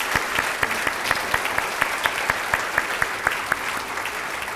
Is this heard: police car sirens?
no